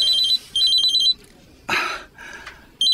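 A cellphone rings with an incoming call, its electronic tone sounding in repeated short bursts and separated by brief gaps, loud and close, with no one talking over it.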